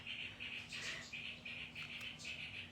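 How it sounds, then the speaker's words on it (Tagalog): Small birds chirp in quick repeated bursts, faint and somewhat distant, forming a steady high twittering with a low electrical hum underneath. "naririnig niyo po ba yung mga ibon sa labas?"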